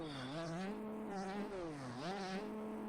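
A 125cc dirt bike engine drones steadily while being ridden, its pitch rising and falling with throttle changes, close and continuous.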